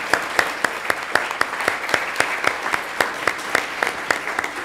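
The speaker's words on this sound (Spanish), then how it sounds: "Pues les quiero dar un aplauso a todos" Moderate applause from a small audience closing a question session of a recorded course, evenly paced claps at mid distance continuing throughout with no talking.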